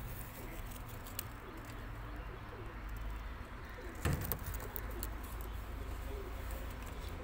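Breeder pair of Teddy pigeons cooing at a bird seller's in Lahore, soft repeated low coos over a constant background hum, with a brief rustle midway.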